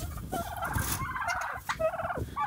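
A flock of turkeys, including toms, gobbles in rapid, warbling bursts, several birds overlapping close by with brief pauses between calls.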